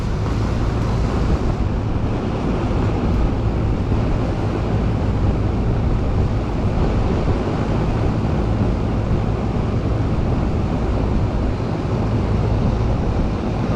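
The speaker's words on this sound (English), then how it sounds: "Well, there's a compressor." A Carrier rooftop AC unit's compressor runs steadily with a loud, broadband roar and low hum, continuous and close, with no voices.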